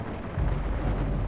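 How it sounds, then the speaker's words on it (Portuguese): Musket gunfire in a Medieval II: Total War Americas battle against the Maya: a short, dense low rumble that swells into a heavier boom partway through and keeps rolling, with no voices. "a gente mete tiro nos nativos aqui"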